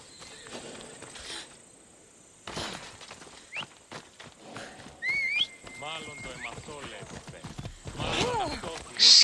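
A horse's hooves clop along in Assassin's Creed Odyssey, irregular footfalls near and moderately loud, mixed with game sound effects and chirps, with a brief burst toward the end.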